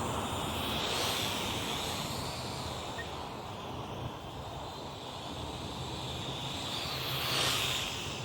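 A Syma X5HC toy quadcopter hovers in place with no throttle input, giving off a steady whirring propeller drone throughout, swelling slightly near the start and again toward the end.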